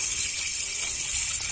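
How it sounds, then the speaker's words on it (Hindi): Water running and splashing steadily as lingude fern greens are soaked and washed, a continuous close, even gush with no talking. "इसको थोड़ी देर पानी में भिगाओ"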